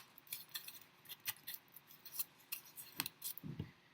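Scissors snip a slit into cardboard in a run of short, crisp cuts, close and fairly quiet, with no talking.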